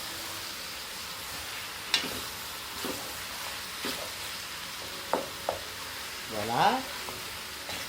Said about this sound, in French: On va laisser suer un petit peu les oignons